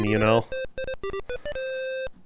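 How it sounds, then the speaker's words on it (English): Electronic beeps and boops from the Bionic Commando video game, a run of short, evenly spaced tonal chirps ending in one sustained beep, with a brief voice at the start. "Only the best beeps and boops for this stream"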